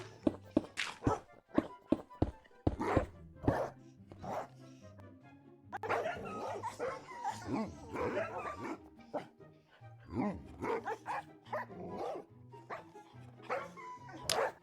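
Minecraft dogs bark again and again in an orbital dog cannon build, a dense scatter of short yips and barks that comes in clusters, some loud and some fainter.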